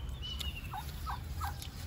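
A pheasant-like chicken with a long, fanned, peacock-like tail gives three short, faint calls at a steady pace, over a constant background hum.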